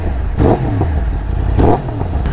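A Yamaha YZF-R1 sport bike with a stage 2 tune, rated at 210 hp, revs hard twice, each sharp snarl rising over a loud, rumbling idle nearby.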